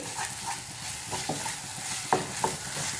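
Raw spices for Goan chicken vindaloo sautéing in oil, a soft continuous sizzle under repeated stirring scrapes and a couple of crisp spatula knocks against the pan, near and without speech.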